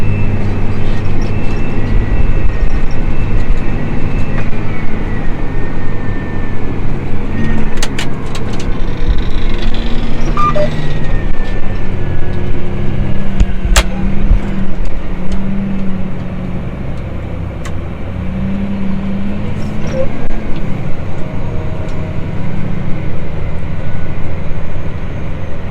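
Tractor engine running steadily while pulling a roller with chopping baskets across a field, a constant loud droning rumble with occasional clanks and rattles throughout.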